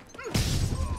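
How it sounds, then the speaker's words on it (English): A flashbang grenade goes off in the Spider-Man PS4 video game, a sharp broadband blast after a brief lead-in, with a ringing roar that fills the rest of the moment. "Flashbang."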